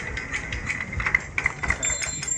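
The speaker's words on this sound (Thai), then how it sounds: "เดี๋ยวลองเครื่องให้ลูกค้าครับ" A small Kubota ZT100 Plus diesel engine idles steadily with a rhythmic knocking chug and a faint high whine, close by.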